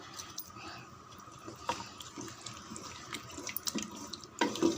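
Water runs steadily from a tap into a cooking pot, six tumblers' worth, with occasional clinks and knocks of utensils and a brief dog whimper near the end.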